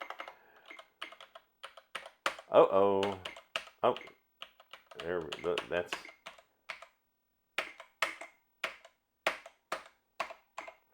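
Keys clatter on an Atari Mega ST computer keyboard during a keyboard test, in irregular bursts of close, crisp clicks. A person talks briefly between the bursts.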